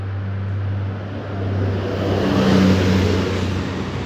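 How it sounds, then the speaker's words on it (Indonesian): A Budiman bus on the Karangpucung–Kalideres route passes along a road in Selagedang, a loud engine drone that swells toward the middle and eases off as it goes by, with no talk. "Ini ada bis Budiman Karangpucung Kalideres."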